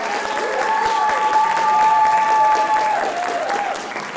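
An audience at a school writers' expo applauds and cheers loudly for several seconds, a dense wash of clapping and shouts in a room, with no speech over it.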